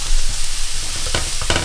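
Onions fried in olive oil in a very hot pan for a bolognese give a loud, steady sizzle with a couple of sharp stirring scrapes near the end.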